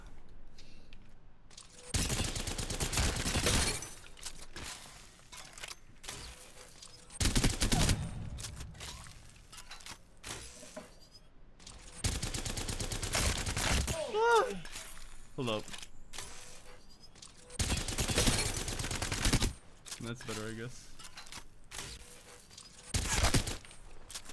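Bursts of automatic gunfire at a video game firing range, several loud sustained volleys separated by short pauses, with a voice talking between and over the shots.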